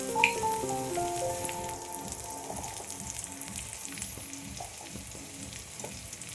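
Green chilli, coriander powder and cumin powder fry in a pan with a steady, close sizzle and light stirring, and there is no talk.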